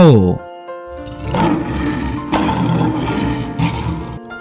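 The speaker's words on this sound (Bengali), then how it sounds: "সিংহ" A loud, rough lion roar that swells and holds for several seconds, preceded by a brief tonal voice at the very start.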